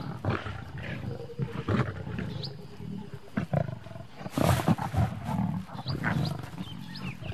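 Wild African lions feeding on a 40-kilo wild boar, giving deep, close roars and growls that come in bursts, with snarls and rustling between them.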